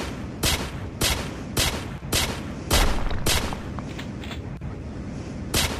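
Weapon fire in the Mines of Mars mining game on Android, a series of about nine loud booming shots at roughly half-second intervals, each with a short rumbling tail.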